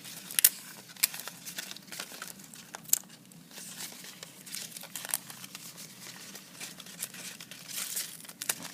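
Paper strips being twisted and taped together crinkle and crumple close by in irregular small rustles, with occasional sharper crackles of paper and tape and no talking.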